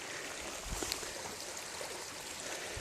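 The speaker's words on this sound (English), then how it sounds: "in a creek bed, in a ravine with a very nice little creek" Small creek flowing through a wooded ravine, a steady, soft rushing and trickling of water that continues evenly throughout, with a couple of faint knocks close by.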